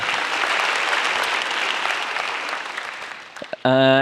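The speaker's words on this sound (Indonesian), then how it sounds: "tepuk tangan sekali lagi buat Gautama" Studio audience applause for a stand-up comedian on a televised comedy competition stage, a dense, loud wash of clapping that slowly fades before a voice cuts in at the end.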